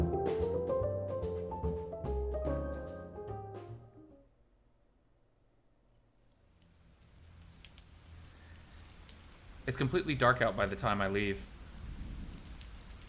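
Nighttime rain tapping on an awning, a soft continuous patter that emerges after music fades out, with a voice briefly speaking over it.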